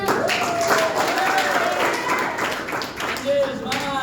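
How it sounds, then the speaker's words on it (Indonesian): A classroom group claps in a brief round of applause while children chatter and call out over it. The sound stays busy and lively throughout. "Kasih tepuk tangan dulu."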